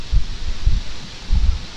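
Strong wind rustles through grass in a field as a steady close hiss, with low buffeting gusts thumping against the microphone every half second or so.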